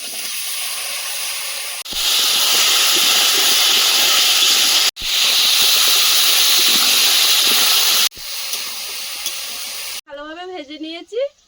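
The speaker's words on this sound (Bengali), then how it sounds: "লবণ মশলাটা কষিয়ে নিয়েছি এবারে কচু দিয়ে দেবো" Taro pieces dropped into hot spiced oil in a pan while cooking a Sundarbans koi fish and taro curry, giving a loud, steady broadband sizzle in several bursts, then a brief voice at the end.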